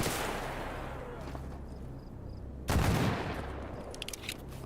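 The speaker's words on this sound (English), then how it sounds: "Are you shooting at me? What are you shooting at?" Gunfire from a bandit in STALKER GAMMA, with a loud burst of shots breaking in about midway over a steady low background hum, then scattered sharper cracks toward the end.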